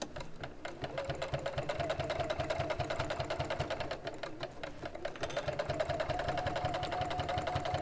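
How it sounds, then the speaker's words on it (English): Sewing machine running steadily and slowly as it stitches binding around the edge of a quilted piece and over a bulky seam, a continuous close mechanical whir with rapid needle ticking and no talk. "And just really slowly sew this all the way around."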